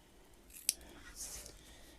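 Small, sticky hand scissors snip paper for a collage, one sharp close snip followed by a softer cutting rustle, with faint room background.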